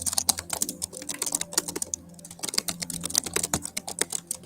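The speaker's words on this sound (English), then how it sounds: "I'm typing it in." Rapid, uneven clatter of fingers typing on a computer keyboard, close and fairly loud, with a brief lull midway before the keystrokes resume.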